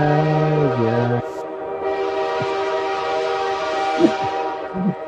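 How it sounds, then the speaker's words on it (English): Train whistle sound effect sounds loudly, a wavering multi-tone blast for just over a second, followed by rumbling rail noise with a few faint clanks and thumps continuing to the end. "Got the train. Choo-choo train, dog."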